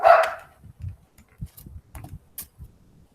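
A dog gives one loud, close bark followed by a string of softer, intermittent yips and thumps spread over a few seconds in an otherwise quiet indoor room.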